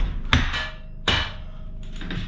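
A metal wheel spacer drops off the rear axle of a 2015 Harley-Davidson Street Rod during wheel removal, giving two sharp clinking impacts about a second apart, close and fairly loud, with faint rattling afterward.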